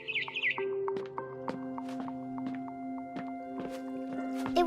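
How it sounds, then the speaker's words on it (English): In the video game What Remains of Edith Finch, a barn swallow gives a few high twittering chirps at the start. Soft footstep thumps follow over a low tonal game ambience. "Then I heard chirping outside my window."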